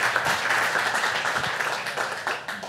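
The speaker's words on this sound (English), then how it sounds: "Join me in giving him a big round of applause." Audience applause welcoming Eric Klinenberg to a talk on climate change and cities, a lively mix of individual claps over a steady crowd wash that thins slightly toward the end.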